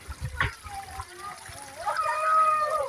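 Seawater splashes from people bathing at a beach, a sharp splash near the start followed by continuous watery movement, with voices and a child's speech mixed in nearby.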